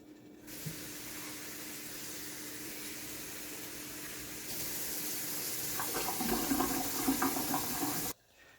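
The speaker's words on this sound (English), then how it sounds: "Now I'm going to wash my oats." Water from a kitchen sink tap runs steadily while steel cut oats are washed, a continuous hissing spray that grows louder midway with some splashing and sloshing before stopping abruptly.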